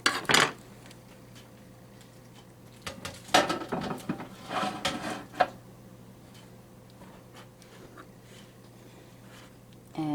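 A knife saws through a loaf of soft homemade French bread in a few clustered strokes, with faint scraping and light clatter against a quiet room hum.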